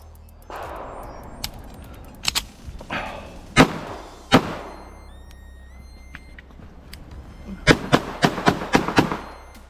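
Pistol fire at the 2023 Chesapeake Cup shooting competition, a run-and-gun stage from multiple positions of cover: sharp, loud single shots in scattered bursts, with a tight rapid string near the end and quieter movement between.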